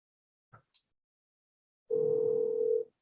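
Pressing the voicemail key on a Mitel desk phone gives a faint click or two, then a steady electronic tone that holds for about a second before cutting off cleanly in a quiet room.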